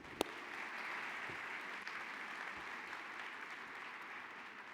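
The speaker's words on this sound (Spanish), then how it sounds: "Lo recibimos con un fuerte aplauso." A conference audience at SAS Forum Argentina 2018 applauds in a continuous, even wash of clapping that stays fairly soft and distant for the whole stretch, with no voices over it.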